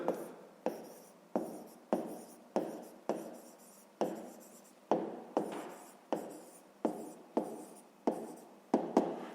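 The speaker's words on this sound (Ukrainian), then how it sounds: "Пишемо правильні дроби." Fractions being written by hand during a fifth-grade maths exercise, a steady run of about sixteen short, dry pen or pencil strokes on paper, close and fairly quiet, with no voices.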